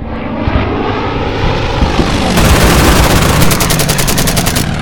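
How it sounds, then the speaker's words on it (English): Aircraft engines drone loudly while rapid machine-gun fire rattles in fast repeated bursts during an air battle in the wartime strategy game Order of Battle, with the gunfire intensifying in the second half. "really nice shooting there by our boys"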